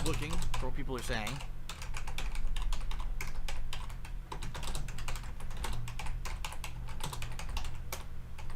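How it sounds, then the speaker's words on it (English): Computer keyboard typing, steady rapid clicking of keys close up, continuous and fairly loud with a low background hum, brief faint vocal sounds near the start. "Buy me a silent keyboard. Then you won't hear me type in the computer."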